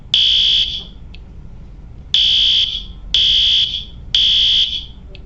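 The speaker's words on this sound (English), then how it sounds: "That's what the evacuation alarm sounds like." A fire alarm sounds in loud, piercing bursts, four long pulsing tones separated by short gaps, with a brief chirp after the first.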